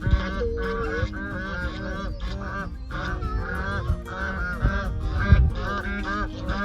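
A flock of farm geese honks loudly and continuously close by, many birds calling over one another in a steady, raucous chorus.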